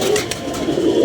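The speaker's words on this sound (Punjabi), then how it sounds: "ਉਹ ਵੇਖੋ ਮਾਸ਼ਾਅੱਲਾ ਕਬੂਤਰ" Pigeons coo softly nearby, a low rounded warble rising and falling through the short moment with no voices.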